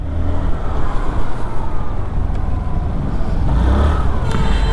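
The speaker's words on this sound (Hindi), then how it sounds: "हार्ड कोर ट्रैफिक में चला रहा हूँ मैं इसको" A Hero Xoom scooter is ridden through heavy city traffic, with a steady, loud roar of engines and road noise running throughout and no talking.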